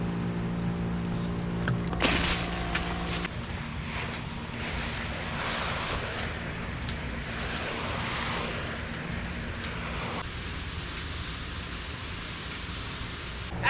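Water sprays over plants inside a greenhouse, a steady close hiss like heavy rain that holds unbroken for the whole stretch, with a brief louder burst near the start.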